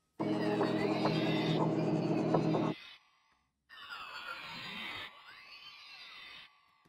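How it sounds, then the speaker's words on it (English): A bell chime pitched down an octave and run through an RC20 Retro Color Flux digital preset plays in two processed passes, gritty and warbling with digital artifacts, the first denser and louder, the second thinner, separated by a brief gap. "I have RC20 retro color. It's on this Flux digital preset"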